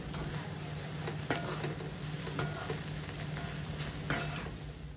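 Bread koththu with chopped coriander sizzles and fries in a pan while a utensil stirs it, giving a steady crackle broken by a few soft scraping knocks, near and moderately quiet with no talking.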